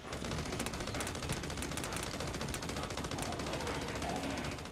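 Rapid automatic weapon fire from the video game Battleborn, a dense continuous stream of shots and bursts with no pauses, loud and steady throughout.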